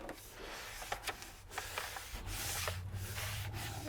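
Oramask masking film being peeled from a CNC-carved plaque, a soft steady rubbing and crackling rasp with a few small ticks, close and quiet.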